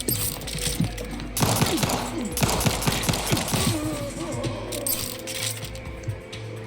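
Rapid gunfire in the 2025 PC game The Outer Worlds 2, dense bursts of close, loud automatic shots rattling over several seconds with mechanical clatter and brief pauses between volleys.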